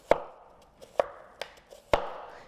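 A knife chops through a yellow onion on a cutting board, giving four sharp, close thuds at an uneven pace in an otherwise quiet room.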